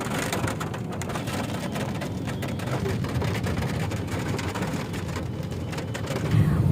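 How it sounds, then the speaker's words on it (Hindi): Heavy rain falls steadily outdoors, a dense, even hiss and patter with faint low rumbles, loud and continuous and without any voices. "इतनी अच्छी बारिश हो रही है ना, बाहर निकलते ही बारिश शुरू हो गई।"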